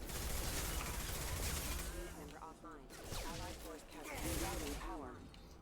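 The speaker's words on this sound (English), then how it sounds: "Who is shooting me now?" Gunfire in the Mass Effect 2 video game crackles through a busy combat mix, with dense bursts across most of the stretch and someone talking over the action.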